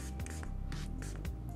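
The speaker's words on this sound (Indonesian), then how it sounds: "Gue semprot dulu" Cleaner sprayed onto a smartphone gives several short hissing bursts close by, with rubbing and handling noises in between.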